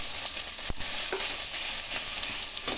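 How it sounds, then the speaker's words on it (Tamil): Onions for a dry fish curry sauté in hot oil, giving a dense, continuous sizzle with occasional scraping strokes of a spatula, loud and close. "நல்லா வதக்கணும்."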